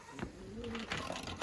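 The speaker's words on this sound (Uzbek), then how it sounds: "o tepada bitta kaptarimiz bor" A pigeon perched up high coos in a soft, low, repeated call at middle distance, with a sharper rustle or wing flap at the end and no talking.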